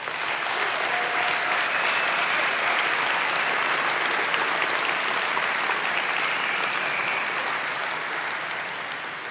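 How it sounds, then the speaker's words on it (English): A big round of applause from the crowd at a hackathon award show, thick and sustained clapping from many people that holds loud for several seconds and then eases slightly toward the end. "it would be awesome if you gave them a huge round of applause"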